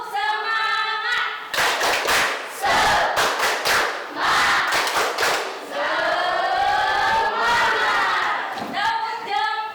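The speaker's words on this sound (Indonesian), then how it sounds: "Yuk, kita ice breaking dulu. Tepuk semangat." Schoolchildren in a classroom perform a rhythmic clapping chant, bursts of sharp, patterned hand claps alternating with loud shouted group chanting, led by a teacher's sung calls at the start and end.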